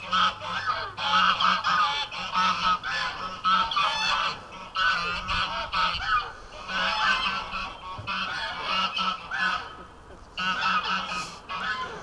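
A flock of geese honking repeatedly in loud, overlapping bursts, nearby and continuous with brief pauses.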